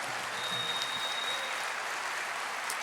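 Church congregation applauding during a Portuguese-language sermon, soft, steady clapping heard at a distance and fairly faint, with a thin tone running underneath.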